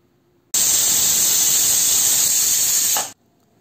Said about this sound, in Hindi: कुकर में सीटी आ गई थी